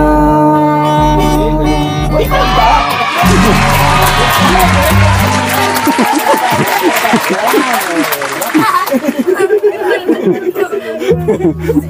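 An audience breaks into applause and cheering after a song performed by an older man, a loud, dense wash of clapping with whoops and chatter that builds and continues at close range.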